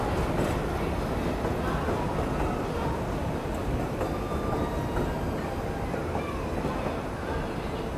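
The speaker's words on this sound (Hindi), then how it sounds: "मुरादाबाद बरेली वाया चंदौसी वाली पैसेंजर है।" A Moradabad–Bareilly passenger train running via Chandausi rolls along the track with a continuous rumbling clatter and faint squeals from the rails, close and steady throughout.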